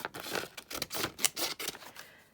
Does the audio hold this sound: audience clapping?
no